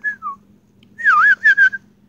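A person outdoors whistles at deer in a nature setting, giving two short descending notes, a pause, then a warbling rising-falling call followed by two more quick bursts, close and loud against a faint low hum.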